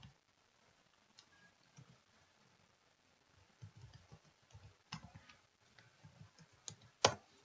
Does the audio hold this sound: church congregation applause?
no